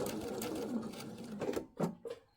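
A sewing machine runs in a steady close-up whir as it stitches a faux welt pocket on trouser fabric, then breaks into short stop-start bursts of stitching near the end.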